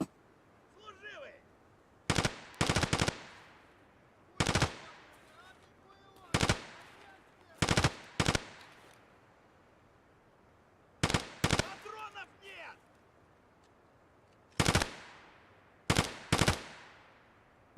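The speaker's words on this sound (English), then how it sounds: "I'm shooting someone, look." Gunfire in the video game Escape from Tarkov comes in sharp, loud bursts of two or three shots, spaced irregularly across the stretch with quiet gaps between. A voice is heard briefly between the early bursts.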